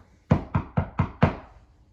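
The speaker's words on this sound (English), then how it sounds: "Goldilocks knocked at the door." Five firm knocks on a wooden cottage door, close and evenly spaced, each with a short hollow thud and quick decay, with no other sound around them.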